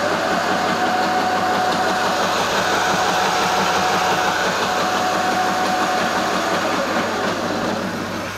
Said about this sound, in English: So as I hit the throttle, let's hit the throttle now.